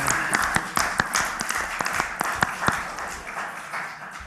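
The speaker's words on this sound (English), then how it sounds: "Please clap for the good" A small group at a board meeting claps for a few seconds, sparse and uneven at first, then thinning out, close and moderately loud.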